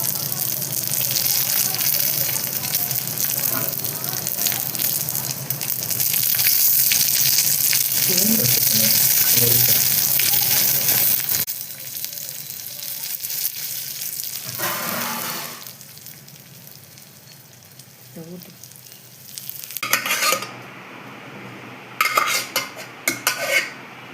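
Dried red chillies and garlic fry in hot oil in a pan, a loud steady sizzle for about eleven seconds that then fades to a softer crackle, with utensil clinks and stirring toward the end.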